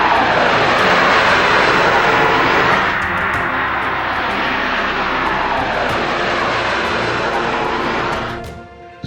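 An airplane's engines roar loudly and steadily as an international flight from Surat airport operates, a close, dense drone that eases slightly midway and fades toward the end.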